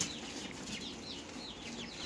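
Faint, distant clucking from chickens over a steady background hiss, soft calls repeating irregularly.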